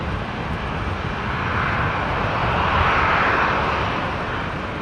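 A fixed-wing airliner roars in near Brisbane International Airport in southeast Queensland, a broad steady engine rumble that swells slightly and then holds, heard clearly with no talk.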